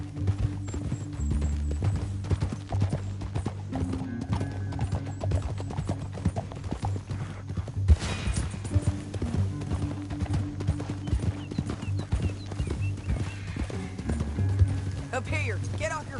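Horse hooves pound steadily in Red Dead Redemption 2 as a mount gallops through a canyon, a continuous clip-clop rhythm running under a sustained musical score for the whole stretch.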